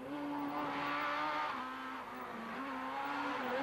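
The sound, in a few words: Opel Astra Kit-Car rally car driving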